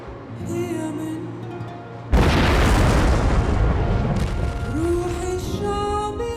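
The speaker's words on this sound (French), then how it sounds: "Peut-être celui-ci s'est-il finalement rompu lors de l'explosion du port de Beyrouth, en août 2020." A massive explosion at the port of Beirut in August 2020 hits as a sudden loud, broad boom that cuts through background music, then rolls on as a sustained rumbling roar for several seconds before the music returns.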